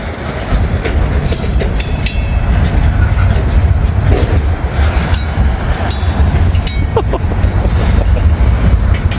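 A heavy freight train hauling steel coil cars in Northern Kentucky rolls past close by, a loud, continuous rumble with clanking, clickety-clack and metallic creaks throughout.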